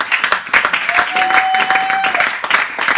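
A church congregation at a French-language worship service applauds continuously, dense and fairly close, with a sustained tone ringing briefly under the clapping and some voices mixed in.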